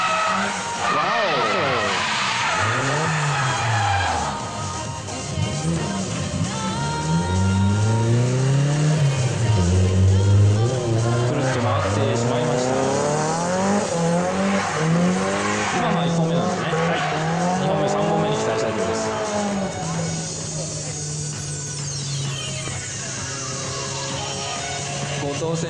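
Nissan Cefiro drift car skidding through a corner in a local drift series solo run at a Japanese circuit, its tires squealing loudly and continuously over a revving engine while a commentator talks throughout.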